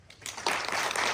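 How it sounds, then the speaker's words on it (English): Applause rises suddenly partway through and continues as a dense, steady wash of clapping from a workshop crowd, fairly loud with no talking. "Round of applause for Missy."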